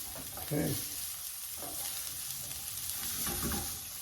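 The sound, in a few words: onions sizzling while sauteing in hot oil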